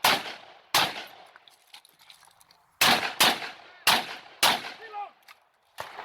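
A ZPAP M70 AK47 rifle fires at a shooting match: about seven sharp, loud single shots, some spaced far apart and some in quick pairs, with echo tails and quiet gaps between.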